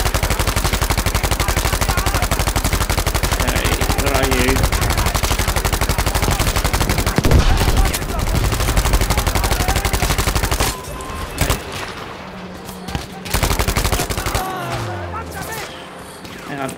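Rapid machine-gun and rifle fire in Battlefield V, loud and continuous for the first stretch, then sparser shots and bursts, with a player talking over the combat.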